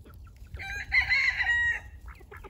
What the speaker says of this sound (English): Chickens are going nuts over it, though.